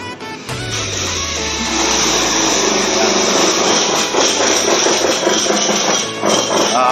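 Loud construction-site din with an engine running continuously, overlaid with harsh metallic clatter and banging, heard close and sustained from start to finish.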